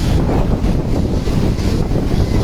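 Rough sea at high tide on Digha beach, with heavy surf roaring steadily and loudly, mixed with strong wind buffeting the microphone and no voices.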